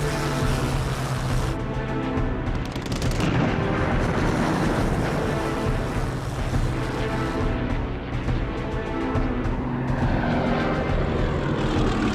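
WWII RAF propeller aircraft engines as a squadron scrambles to protect a convoy, a continuous heavy droning roar with layered engine tones, loud and unbroken throughout the twelve seconds, without any talk.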